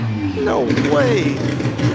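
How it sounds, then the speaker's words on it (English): A loud rotary-engine car leaving a car show revs in rising and falling sweeps, close by, with people talking over it. "Wow, that thing is loud. Listen to that rotary."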